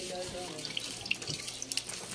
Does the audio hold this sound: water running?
yes